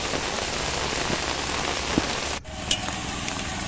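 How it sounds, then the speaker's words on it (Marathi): Heavy monsoon rain pours down steadily on rice paddy fields during transplanting, a dense close hiss of drops on surfaces, briefly dipping before continuing just as strong. "आता पाऊस वाढतच चालला आहे"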